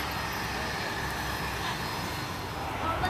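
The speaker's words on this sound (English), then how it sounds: "You can see airplanes coming in for landing." An airplane comes in for landing, watched from an airport observation deck, heard as a steady broad engine roar that stays fairly loud and even throughout, with no talk over it.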